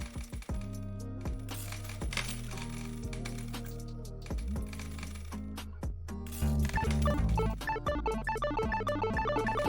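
A coin pusher casino machine auto-collects its coins in a rapid, continuous clatter of metal coins dropping and clinking, mixed with electronic game tones, growing denser and louder toward the end.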